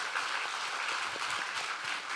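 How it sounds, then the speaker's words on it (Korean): Church congregation at a Sunday service applauding two singers, a steady, fairly distant round of many hands clapping that fills the room throughout. "두 우리 형제 자매에게 박수 좀 보내주세요."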